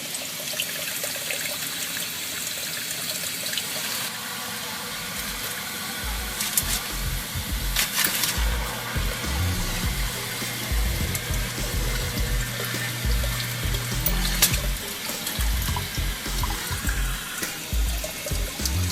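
Water from a garden hose runs steadily while flushing out a basement pipe, a constant close rushing and splashing, with a deeper gurgling churn building partway through.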